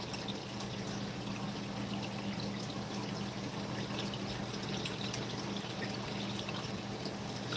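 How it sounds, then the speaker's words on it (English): Water from an aquarium filter pours steadily back into a fish tank, a constant, even trickle and splash with faint drips and no talking. "where the water comes back into the tank."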